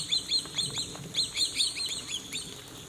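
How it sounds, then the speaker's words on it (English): A flock of startled birds by the Suwannee River, repeated sharp chirping calls in quick overlapping bursts, fairly close and clear over a faint outdoor background. "I came around the corner, and I disturbed a whole bunch of these birds."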